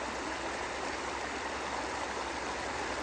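A river in Kranjska Gora, Slovenia rushes in a steady, even wash of water noise with no pauses or voices.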